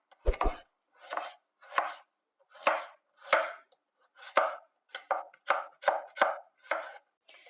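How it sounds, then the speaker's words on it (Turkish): A knife slices a medium onion on a cutting board, about a dozen crisp chops in an uneven rhythm that quickens toward the end, close and clear against silence. "Bunun için bir orta boy soğanı piyazlık olarak doğruyoruz."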